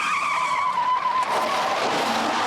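A car tears up a hill road at high speed, tyres squealing in a sustained skid that drops into rough, noisy scraping, fairly close and with no voices.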